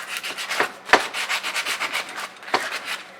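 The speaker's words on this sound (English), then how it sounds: "We've taken some of this sandpaper, which is basically sandpaper. It's emery cloth. We're going to clean up the shaft like so." Emery cloth rubs rust off a metal shaft in quick, rhythmic back-and-forth strokes, close and fairly loud, with a few sharper scrapes among the steady rasping.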